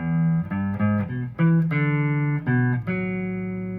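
An electric guitar plays an opening riff, a short run of clear, sustained single notes rising and falling in a syncopated pattern, alone and close.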